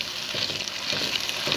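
Mutton nihari simmering in a pot as flour batter is added little by little and stirred steadily with a spoon, a continuous bubbling sizzle with soft scraping, close and fairly loud.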